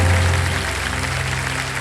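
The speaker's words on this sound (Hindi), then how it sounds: "तालियां बज जाए।" Applause from a game show studio audience fills the moment, dense and steady, with a low musical hum underneath.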